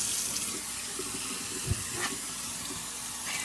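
Tap water runs steadily into a sink as a restored cast iron pan is rinsed after a vinegar bath, a close continuous rushing splash with a brief knock partway through.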